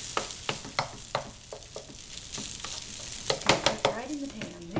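A hash brown and egg mixture cooks in a Xpress Redi Set Go machine, giving irregular sizzling bursts and soft crackles that swell and fade, close up with no clear talk.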